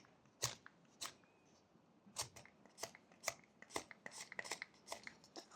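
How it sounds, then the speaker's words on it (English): A small knife slicing and scratching wood while whittling a lion figure, a series of short crisp scraping strokes, quiet and close, irregular at first and then faster and clustered. "I'm also just slicing the wood a little bit, creating a lot of tiny scratches to get that hair-like finish."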